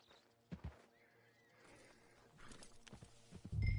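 Horse in Red Dead Redemption 2 gameplay gives a faint, wavering whinny near the middle, with a few soft hoof clops around it and a louder thump at the end, fairly quiet overall and without talk.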